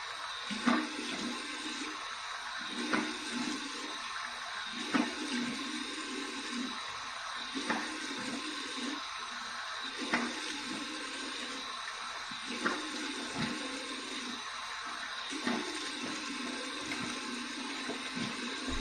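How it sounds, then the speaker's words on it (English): Warm tap water runs steadily into a sink for a rinse after a wet shave with shaving soap, a continuous close splashing rush with faint irregular spatters and no talking. "Here's my warm water rinse."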